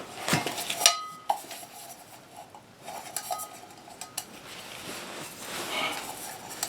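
Titanium alcohol stove from traildesigns.com being handled, giving light metallic clinks and taps scattered through the stretch, close and fairly quiet, with no talking.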